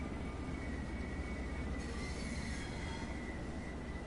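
A Northeast Regional passenger train rolls past in the Train Sim World 3 railway game. A continuous rumble of wheels and carriages carries a thin, sustained metallic squeal, steady and fairly close, with no talking.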